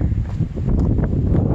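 Wind buffeting the microphone, a low rumbling roar that gusts unevenly across the moment with no voice.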